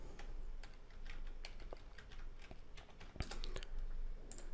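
Keystrokes tapping on a computer keyboard while a search keyword is entered, a steady run of quick clicks over about four seconds with a brief louder clack near the end, nearby and no voices.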